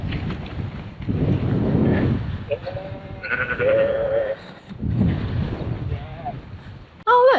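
Sheep bleat on a windy Yorkshire moorland trail by a river, several wavering calls rising over strong wind rumble, with a sharper bleat near the end.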